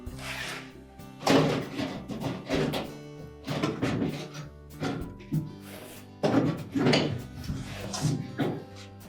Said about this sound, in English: lift that evaporator cover upwards to release it from these 2 tabs